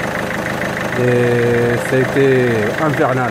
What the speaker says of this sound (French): Le moteur tout en ralenti, nickel, stable.